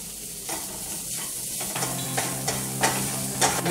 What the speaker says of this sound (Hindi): ये हमने सभी मसाले भून लिए।